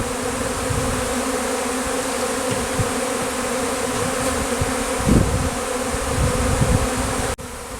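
Dense, continuous buzzing of a honeybee swarm strung along a thin willow branch, steady and close with many overlapping wingbeats, alone without voices.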